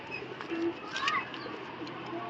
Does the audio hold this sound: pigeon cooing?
yes